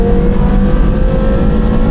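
A Porsche Carrera GT engine revving hard toward 8,000 rpm, a loud, close, sustained high-revving drone with a strong steady tone and no voices.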